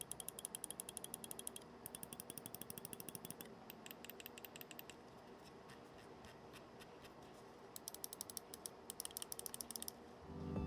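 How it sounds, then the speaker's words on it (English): Clicks of a Sword X WLMOUSE gaming mouse with Omron optical switches, rapid bursts of crisp close clicking in uneven runs with short pauses, heard alone in a quiet room. "Now the clicks I have over here are the Omron Opticals."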